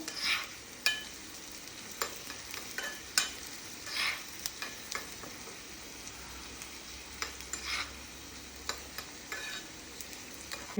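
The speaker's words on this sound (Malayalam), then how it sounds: "ഇതാ ചുവന്ന മുളകും ഇതൊന്ന് ചോക്കണം അല്ലേ അമ്മ നല്ലോണം ചോക്കണം" Dried red chillies fry in a pan with sliced onion for a spinach and lentil curry, giving a steady sizzle broken by repeated scraping stirs, with no talking.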